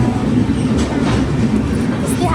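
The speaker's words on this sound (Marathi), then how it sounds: "तर गाईज आता आम्ही ट्रेनमध्ये बसलेलो" A moving train heard from inside the carriage on a Konkan trip, with a loud, continuous rolling rumble and rattle that stays steady from start to finish.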